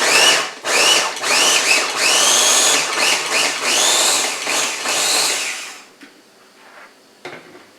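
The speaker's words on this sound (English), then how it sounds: "So we're going to blend it up just a little bit as well." A countertop blender pulsing cranberry relish in a series of loud, close whirring bursts with short pauses between them, then stopping and leaving near quiet with a faint clunk.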